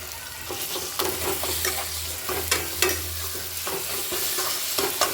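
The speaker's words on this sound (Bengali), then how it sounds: "দিয়ে আমি ওকে নাড়াচাড়া করতে থাকবো" Garlic paste and softened onions fry in a pan for a Bengali-style meat curry, a continuous close sizzle punctuated by repeated scraping strokes of a stirring spoon.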